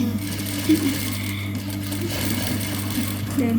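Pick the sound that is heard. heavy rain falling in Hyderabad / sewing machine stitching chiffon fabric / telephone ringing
sewing machine stitching chiffon fabric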